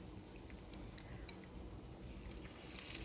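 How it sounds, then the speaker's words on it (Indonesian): Dendeng beef jerky fries in hot oil with garlic, a dense continuous sizzle and crackle holding steady and close throughout, no talking. "Jadi kalau goreng dendeng itu jangan nanggung-nanggung agar nanti tidak alot."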